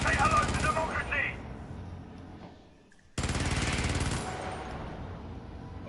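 Automated sentry turrets fire in Helldivers in fast, continuous rattling bursts: one stretch fades out, then after a short gap another loud burst cuts in, with speech mixed in.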